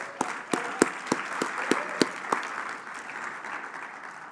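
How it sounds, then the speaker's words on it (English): A small audience applauds for a speaker at a medical talk, scattered sharp claps standing out over a soft wash of clapping that fades toward the end. "I think we should give him a little hand of applause here"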